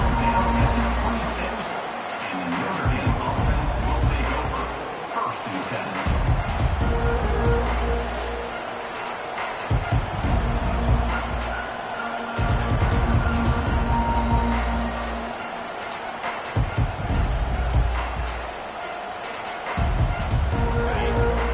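A home crowd at a football game roars continuously, a dense wash of cheering and crowd noise that swells and dips over about twenty seconds, with no clear break into silence.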